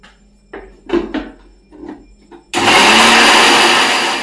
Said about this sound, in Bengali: আদা আর কাঁচা লঙ্কাটা একসাথে মিক্সিতে একটু পেস্ট করে নেব।